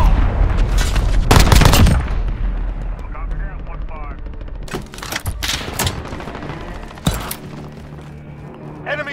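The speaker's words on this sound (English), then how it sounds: "Enemy cruise missile incoming, take cover." Enemy cruise missile strike in Call of Duty: Modern Warfare: a loud, dense opening blast, then several sharp booming impacts and a later single crack over a steady rumbling battle bed.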